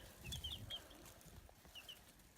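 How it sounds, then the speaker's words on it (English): One-week-old baby chicks walking around in a brooder, giving a few faint high peeps and soft rustling in a quiet room. "just the chickens walking around"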